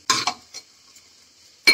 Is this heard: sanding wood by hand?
no